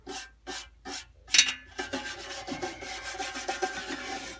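Scraping fly ash off the inside of a Harman pellet stove gives repeated short rasping strokes, close and fairly quiet, with no talk.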